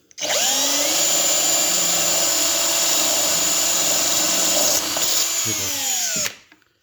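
A power drill boring a hole in glass, a loud, steady, high-pitched whine held for about six seconds before spinning down and stopping.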